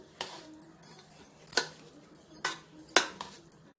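Onion fried rice mixed with gravy, lemon and salt, heard as several sharp clinks and scrapes of a utensil against a dish at an uneven pace, close and moderately quiet.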